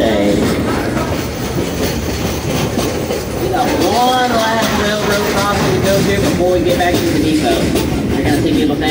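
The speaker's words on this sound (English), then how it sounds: "folks don't want to get run over by a steam train" The Frisco steam train at Silver Dollar City rolls steadily along the rails with loud, continuous rumbling and clickety-clack, a few wheel squeals rising over it and voices faintly underneath.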